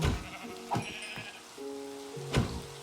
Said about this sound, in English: Oh my god, the sheep are like plentiful. Oh my goodness. So many sheep.